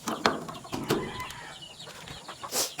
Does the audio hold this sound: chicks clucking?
yes